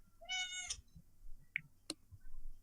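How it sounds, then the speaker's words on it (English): A cat meows once, a clear, fairly close drawn-out call, followed by a few faint clicks and small sounds in an otherwise quiet room. "I keep hearing a kitty."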